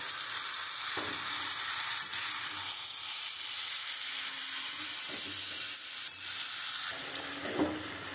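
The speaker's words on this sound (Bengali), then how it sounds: "এবার আমি ভেজে রাখা চিংড়ি মাছগুলো দিয়ে দেবো" Fried prawns fry with pointed gourd and potatoes in a pan, a dense continuous sizzle with a few spoon scrapes and knocks against the pan, steady and close.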